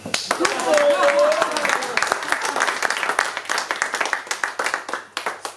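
Audience applause in a French stand-up comedy show, dense clapping that swells loud at first and then thins into scattered, separate claps toward the end, with a voice calling out briefly near the start.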